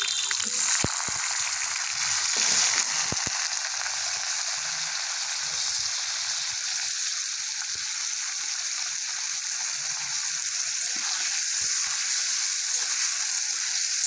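Potatoes for aloo posto fry steadily in a pan, giving a continuous loud sizzle with a few faint clinks near the beginning and no talking.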